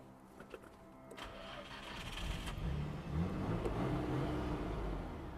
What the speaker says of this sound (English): let's fire up the car real quick